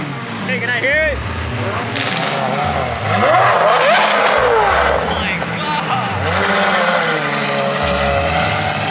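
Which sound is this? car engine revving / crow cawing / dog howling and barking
car engine revving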